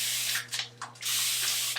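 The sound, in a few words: spray bottle spraying water on hair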